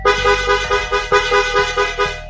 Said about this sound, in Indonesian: Kalau klakson bertubi-tubi, itu nyuruh orang di lampu merah maju,